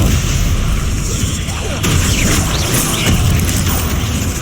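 Hogwarts Legacy spell effects fire in a loud, continuous barrage of magical bursts, booms and crackling impacts layered over dense game ambience.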